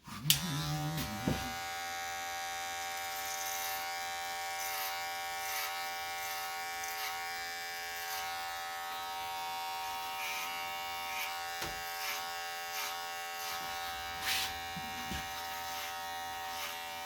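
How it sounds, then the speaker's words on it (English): An electric hair clipper blending hair on top of a head gives a steady, close, high-pitched buzz with a constant drone, plus a few brief knocks as it moves. "And blend it on the top using regular clipper."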